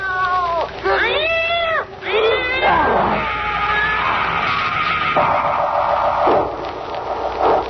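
A radio-drama cat lets out several loud, drawn-out wavering meows in quick succession, followed by a sustained whining, yowling cry, close and prominent.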